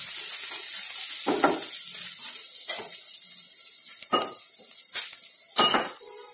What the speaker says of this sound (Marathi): कांदा व्यवस्थित आता आपण परतून घेऊया